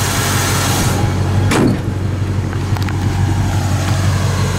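A 1966 Ford Mustang engine idles steadily with a low, continuous rumble, loud and close, with a brief swelling whoosh partway through.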